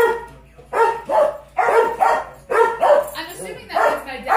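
Several crazy house dogs bark and yip in a living room, a run of loud, close, sharp barks in quick bursts with short gaps between them.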